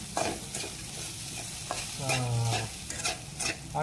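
Elephant foot yam slices frying in a pan after a little more oil is poured in, a dense sizzle and crackle with spatula scrapes and knocks, close and continuous with no talk.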